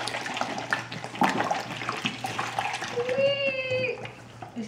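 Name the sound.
liquid poured into a toy volcano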